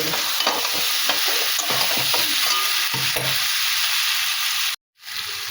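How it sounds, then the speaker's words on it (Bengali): Half-boiled potatoes and cauliflower stir-fried with spices in a pan, a steady close sizzle under repeated scraping strokes of a spatula, continuous and loud until a brief cut near the end. "দেখো আলু আর ফুলকপি মশলার সঙ্গে ভালো করে কষিয়ে নিই"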